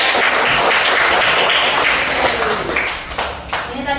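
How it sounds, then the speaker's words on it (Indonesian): Clapping hands fill an Indonesian classroom as students applaud a group presentation, a dense, loud and steady patter of many hands that thins slightly toward the end. "Kasih tepuk tangan juga."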